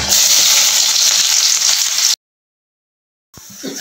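Bay leaf, cinnamon and onion hit hot oil in a pan, a loud close crackling sizzle that cuts off abruptly, falls silent for about a second, then resumes more softly.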